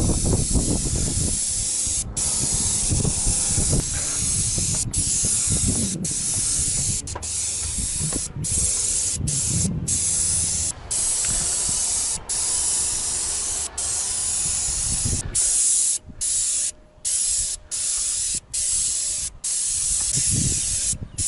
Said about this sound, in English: So I'm about to start spraying roof undercoat using tip size